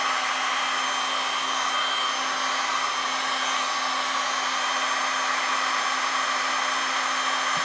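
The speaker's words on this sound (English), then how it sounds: "I kind of want to blow the black back with a fan" A steady, close whooshing airflow from a fan or dryer-like blower pushes wet resin paint pigment, a constant hum with no breaks or talking.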